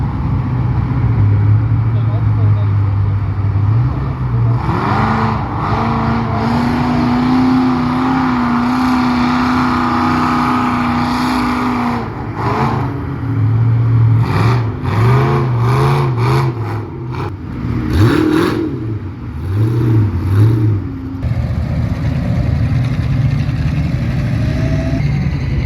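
A mud-bog vehicle held in first gear at a Mudders Day weekend event, its engine roaring loudly and revving in repeated rising and falling surges throughout, with people talking underneath the din.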